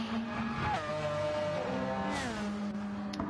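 A Formula 1 car engine in Gran Turismo 7 wails at high pitch, holding a steady note with rising and falling gear-change pitch sweeps. It sounds loud and continuous for the whole stretch.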